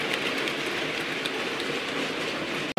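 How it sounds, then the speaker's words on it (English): Continuous rolling rumble and faint clatter of a Bachmann Class 56XX model locomotive pulling freight wagons backwards along track, close and steady, ending with a short break. "pulling a freight train backwards."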